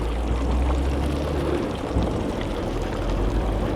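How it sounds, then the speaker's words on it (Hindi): Hot spring water flowing out of the ground at Tata Pani, yellowish and sulphur-laden, gives a steady, loud, continuous rush and gush with no speech over it. "यहाँ से ये पानी निकल रहा है जी।"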